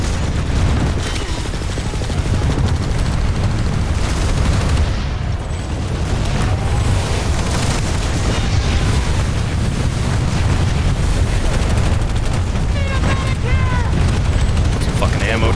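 Planetside 2 combat in a tower defense fight: bursts of gunfire and booms over rumbling background noise, loud and continuous throughout.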